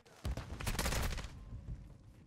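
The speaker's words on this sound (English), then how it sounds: "And I missed every shot on that guy." Automatic gunfire bursts in the first-person shooter Modern Warfare 2, a loud dense fusillade of rapid shots over about a second and a half, then trailing off, with no talk.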